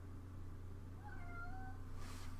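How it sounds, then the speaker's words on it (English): A cat gives one faint, drawn-out meow over a steady low hum in a quiet room, with no voices. "Quiet kitty."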